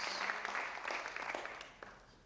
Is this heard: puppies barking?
no